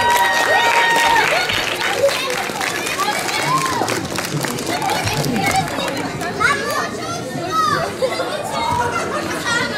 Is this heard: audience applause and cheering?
yes